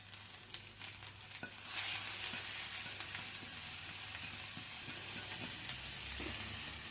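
Steady sizzling of spices frying in hot ghee, a loud continuous hiss that rises sharply after a few quiet clinks and stirring sounds.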